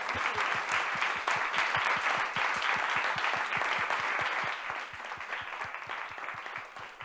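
Audience applause at a COP29 Climate Hub session on food, agriculture and water, a steady crowd of clapping hands sustained for several seconds before thinning slightly toward the end, heard at moderate distance in an indoor hall.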